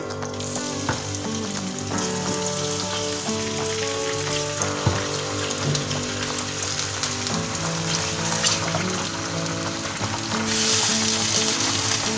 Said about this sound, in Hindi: यहाँ हमने डाल दी है चिकन।